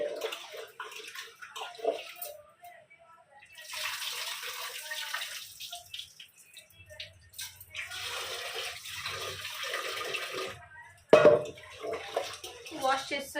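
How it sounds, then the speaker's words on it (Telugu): Running water splashes as toor dal (pigeon peas) is rinsed in a vessel, the swishing coming in two longer bursts with quieter pauses, and someone talks over parts of it. "కందిపప్పు తీసుకున్నాను నేను. ఇది ఇప్పుడు వాష్ చేసుకున్నాను."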